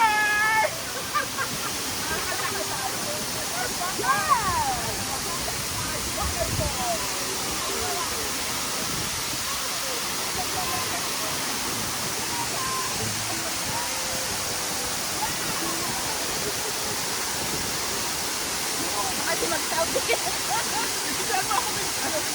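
Steady broadband rush of the Khorfakan waterfall in the UAE, continuous and fairly loud throughout, with people talking and faint voices over it.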